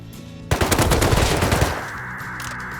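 Rapid automatic gunfire in the survival video game Rust, a loud burst of close shots lasting about a second before it fades into ambient background.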